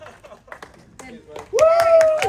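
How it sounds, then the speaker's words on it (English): A small crowd at a migrant hotel protest in Diss claps for a speaker. Scattered, sparse claps come first, then a louder burst of clapping under a voice. "Can you give Luke a round of applause from this, please?"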